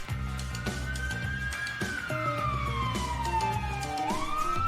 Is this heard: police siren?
yes